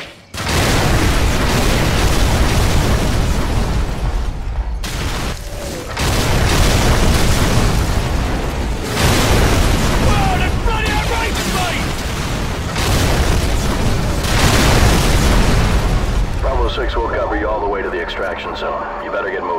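Artillery fire-mission explosions in Call of Duty 4: Modern Warfare pound in heavy, loud booms one after another for the full stretch, with rumbling blasts under radio chatter and gunfire.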